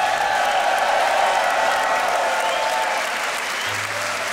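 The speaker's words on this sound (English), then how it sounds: "Crowd, give it up, come on!" Crowd at a beatbox battle applauding and cheering after a match, a steady, loud wash of clapping with scattered whoops that holds for several seconds and eases slightly toward the end.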